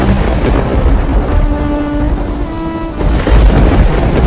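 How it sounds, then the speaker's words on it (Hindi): Rain picks up again over a village at the start of the rainy season, a dense, loud wash of falling water with a low rumbling swell of thunder beneath a steady tone. "देखो ना, फिर से बारिश शुरू हो गई।"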